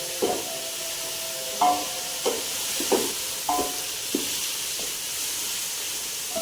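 Tomatoes with rock salt sautéing in a pan for biryani, a steady soft sizzle and hiss with a few light stirring clinks and scrapes spaced through it, close and moderate in level with no talk.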